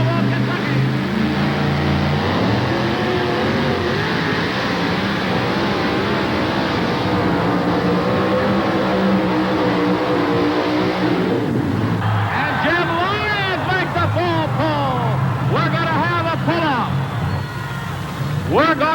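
At a 1988 truck pull event in Memphis, a pulling truck's engine roars and revs under an announcer's loud commentary, with crowd noise rising toward the end.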